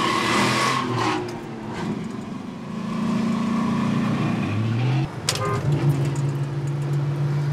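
A car pulls away on a road in the Colombia-Venezuela border area, heading off to collect 4,000 liters of fuel, its engine rising and revving nearby with a steady rumble and a sharp knock partway through.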